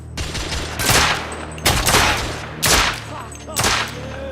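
Four loud, sharp Luger pistol shots in The Order 1886, evenly spaced about a second apart, each with a reverberant tail over a low game background.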